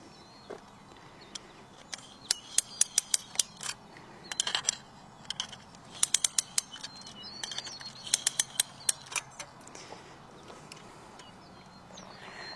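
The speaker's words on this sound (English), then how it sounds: "We're going to pull things tight and get tension" A ratcheting wire tensioner tightens fence wire outdoors, giving repeated bursts of sharp metallic clicks in uneven groups, close and fairly loud, while birds chirp faintly in the background.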